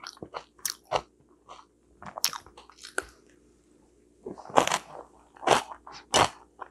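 Someone eating steamed sweet potato in a countryside kitchen, with close, soft bites and chewing in irregular bursts, a few crisper crunches and quieter pauses between mouthfuls, no talk.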